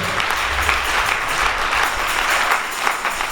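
A church congregation at a night vigil applauding, dense continuous clapping filling the room at a loud, even level throughout.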